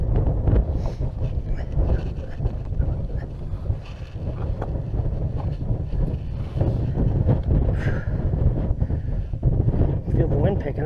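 Strong wind roars and buffets the microphone on the exposed Knife Edge ridge trail to Baxter Peak, a loud, continuous gusting rush that swells and eases without pause.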